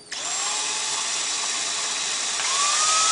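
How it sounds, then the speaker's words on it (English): A power drill bores through a resin grain bed, starting abruptly and then holding a loud, steady high whine for about three seconds, with a slight rise in pitch near the end and no voices. "It'll be important to keep your drill nice and level."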